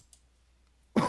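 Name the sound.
cough from vaping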